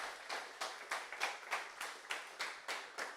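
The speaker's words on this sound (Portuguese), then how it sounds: "Vamos aplaudir Jesus bem forte." A church congregation claps in a steady, regular rhythm, about ten evenly spaced bursts of hands striking together, moderately faint and heard without voices over it.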